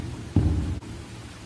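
Rain falling at night in the Roblox horror game The Mimic, a steady broadband wash with one brief louder burst, no talking.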